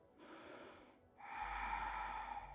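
A slow, deep inhale during a yoga exercise comes as a soft breathy rush through the nose, faint at first and then swelling into a fuller, steady draw of breath.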